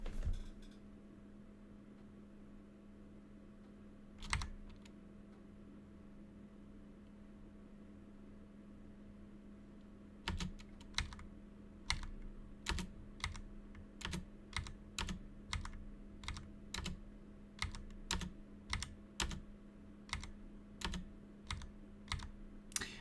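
Keys clack on a computer keyboard over a steady low hum. A few isolated presses come first, then a quick, uneven run of crisp, close keystrokes fills the latter half.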